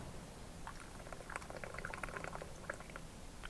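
Hot jalapeño jelly pours into small canning jars through a red canning funnel, giving a soft continuous liquid trickle with faint gloopy splashes, low and steady with no talk.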